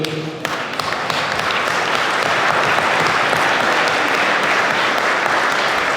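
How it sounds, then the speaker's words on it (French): A large audience at an awards gala in Lanoraie applauds loudly and continuously, a thick roar of clapping that swells after a brief spoken opening and stays full throughout. "c'est le moment où tout le monde s'applaudit avec un gros sourire"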